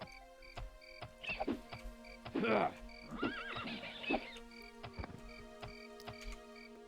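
A horse in the video game Daggerfall Unity neighs while fighting a bat, giving a few whinnying cries over game ambience and footstep-like clops, with someone talking at moments.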